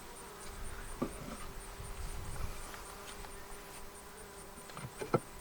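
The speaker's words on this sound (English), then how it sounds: "I think that these bees are perfectly content to be here." Honey bees buzz around a Langstroth hive during an inspection, a faint, steady hum of many insects with occasional nearby wingbeats flying past and a few soft knocks.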